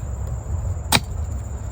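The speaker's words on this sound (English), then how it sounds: "Just trying to break through a mason jar bottom right there" A glass mason jar bottom being broken through while digging for old bottles, heard as one sharp crack of glass near the middle of a short quiet stretch.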